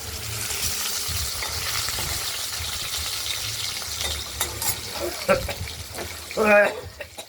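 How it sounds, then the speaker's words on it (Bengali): Tomatoes are added to potatoes frying in a pan, keeping up a continuous close sizzle with scraping and stirring knocks toward the end. A brief voice is heard near the finish. "আলুগুলো ভাজা হয়ে গেছে, এবার টমেটো দিয়ে দেবো।"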